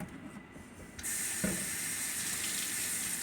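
An Ozark Trail knife being rinsed under a running tap, water switching on after a second and then flowing steadily and loudly with a brief clunk of the blade in the sink.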